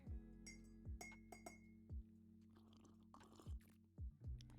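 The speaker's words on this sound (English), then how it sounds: "I add 2 teaspoons of sugar and stir." A metal spoon stirs sugar into a cup of tea, clinking sharply against the sides of the cup several times in an uneven rhythm, close and clear with no talk.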